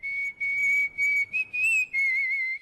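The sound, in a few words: whistling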